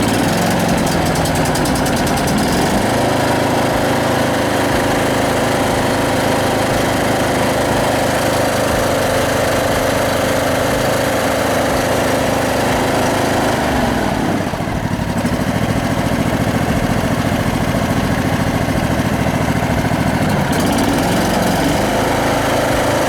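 A John Deere mower engine, on full choke, runs loud and steady close by with a continuous idling drone, briefly dipping around the middle and again near the end before recovering.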